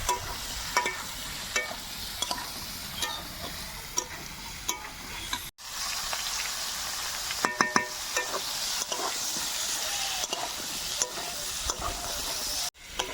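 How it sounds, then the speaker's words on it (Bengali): Ridge gourd frying in oil with turmeric and red chilli powder gives a steady close sizzle, with repeated scrapes and taps of a spatula stirring the pan and no talking. "দিয়ে ঝিঙেটা খুব ভালো করে ভেজে নেব।"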